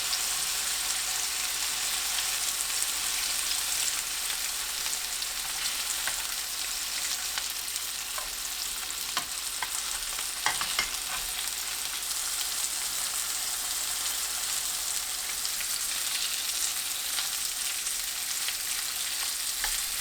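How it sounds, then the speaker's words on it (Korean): Potato rolls wrapped in bacon fry in cooking oil, a constant crackling sizzle with occasional sharper pops and light stirring, steady and close for the whole stretch. "식용유를 두르고 굽습니다."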